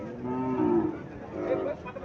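A Sahiwal cow moos twice nearby, two long, low, drawn-out calls separated by a short pause, with no talking.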